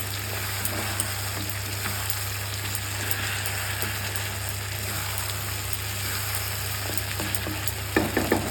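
Green chili and mustard paste sautés in a hot pan, a steady close sizzle with occasional stirring scrapes running throughout, a few sharper clinks near the end.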